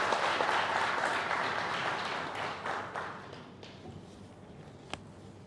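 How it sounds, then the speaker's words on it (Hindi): Audience applause at a trade and industry federation event, a dense clapping crowd that is loud at first and thins out over a few seconds into a quieter tail with a stray clap near the end. "एक बार तालियां थोड़ी सी हल्की।"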